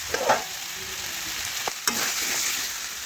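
Chicken curry cooking in a pan with a steady hiss of sizzling as a little water is poured in, plus a few sharp utensil clicks, heard up close without talking.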